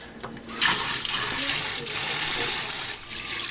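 Water runs steadily from a tap, rinsing a kitten during its bath. It is a close, continuous gushing splash that starts abruptly and carries on with slight changes as the stream hits the animal and the sink, and a voice is faintly heard early on.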